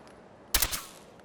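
Spray n' Pray gun in Fallout 4 firing explosive rounds: a quick burst of two or three loud, close blasts with cracking area-of-effect detonations, then a short fading tail against quiet background.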